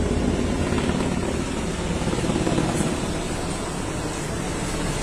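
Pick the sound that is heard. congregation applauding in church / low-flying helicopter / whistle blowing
low-flying helicopter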